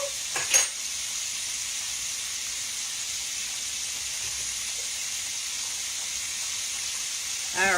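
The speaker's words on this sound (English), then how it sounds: "chicken is frying at a good little speed right there" Chicken frying in a pan gives a steady, close sizzle with constant hiss throughout, and a brief voice is heard at the start and again at the very end.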